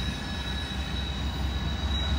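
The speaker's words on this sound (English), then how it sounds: "we got an interesting train coming here. Looks like a can train, tanker," A tanker freight train led by a CSX locomotive rolls down the grade at Horseshoe Curve, Pennsylvania, with a loud, close, steady rumble and a sustained high wheel squeal.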